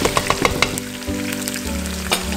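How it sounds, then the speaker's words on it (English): Onions and tomato paste frying in a pot for Nigerian party jollof rice: a few sharp taps of a utensil at the start, then a steady close sizzle with a brief clatter near the end. "I'm gonna fry it."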